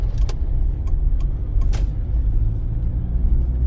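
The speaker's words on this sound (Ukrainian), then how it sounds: "зараз півтори тисячі оборотів, я повністю відпустив педаль газу" A car engine idles steadily at about 1500 rpm with the accelerator released, a low continuous rumble inside the cabin with a few faint clicks and rattles.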